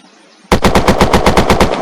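In a video game (Unturned, Western Front weapons mod), after a brief quiet moment, a machine gun opens up in a loud, steady burst of rapid evenly spaced shots, each crack sharp and heavy.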